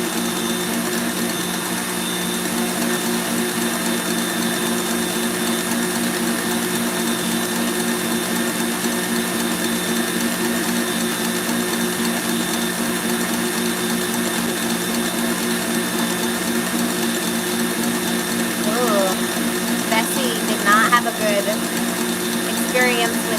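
An electric mixer whisk whips a floral macaron mixture in a home kitchen, giving a steady, loud motor whir with a constant mechanical buzz that runs unbroken throughout, and a few faint voice-like sounds near the end.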